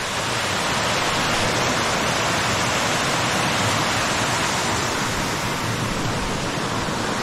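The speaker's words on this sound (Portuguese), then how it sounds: "Tudo isso faz parte da cachoeira de Amélia Rodrigues" A waterfall at Amélia Rodrigues in the interior of Bahia roars in a loud, dense, unbroken rush of falling water, close and steady throughout with no voices.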